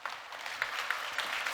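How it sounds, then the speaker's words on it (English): An audience applauds as a speaker is welcomed onto a conference stage, a brief burst of dense clapping that holds steady throughout. "Please give her a round of applause"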